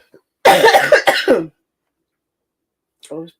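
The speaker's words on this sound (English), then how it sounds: "it's touching your head and making me cough" A short burst of several harsh coughs close up, followed after a pause by one more brief cough.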